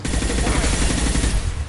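Rapid gunfire in Mass Effect Legendary Edition on PlayStation 5, a loud, dense burst of continuous shots filling the whole moment with no gaps.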